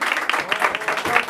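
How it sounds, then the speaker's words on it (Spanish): An audience claps at Sofía's quinceañera, where a youth mariachi band performs: a short burst of dense, close applause with a voice sounding over it. "Y ese bonito y fuerte aplauso para la ingeniera que nos escucha"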